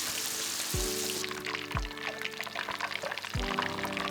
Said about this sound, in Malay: Panaskan minyak yang banyak, celup ikan dan goreng sampai garing.